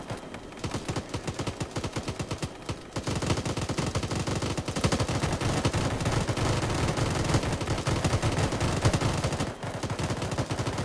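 Sustained automatic gunfire from the military shooter Arma, several weapons firing rapid bursts that merge into a dense, continuous roar, loud and close throughout with a brief lull near the end.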